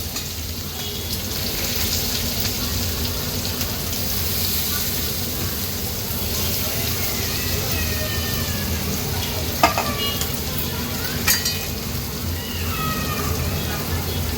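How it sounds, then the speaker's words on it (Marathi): Sea eel roe pieces, prepared in the Agri Koli style, fry in hot oil in a pan with a loud, continuous sizzle and crackle, dotted with sharper spatters and pops. "गाबोळी तेलात टाकल्याबरोबर लगेच ती उडत असते त्यामुळे फटाफट आपण ही तेलावर सोडणार"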